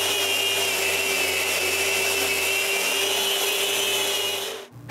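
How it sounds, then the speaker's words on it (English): A power sander runs steadily across planed wooden panels in a workshop, a continuous loud whirring drone that holds even for several seconds, then cuts out abruptly near the end. "I need to sand this."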